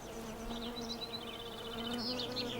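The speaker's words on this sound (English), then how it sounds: "All I can hear now is the bees, the birds" Bees buzzing faintly in the summer countryside of Snowdonia, a soft, steady drone with wavering pitch as insects pass near, over quiet outdoor background.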